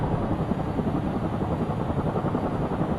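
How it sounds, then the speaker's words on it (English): Helicopter hovering very close overhead during an attack on Gaza, a loud, steady rotor chop with dense low thumping that holds unbroken throughout, no voices. "Here we are again. The chopper's very close this time."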